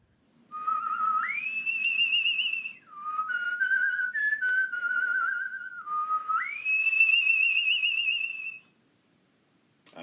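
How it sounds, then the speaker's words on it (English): A person whistles a clear, close melody of long held notes that step up and down in pitch, a few phrases over about eight seconds with no talk. "I'm standing in front of this bird painting, and I just had to whistle."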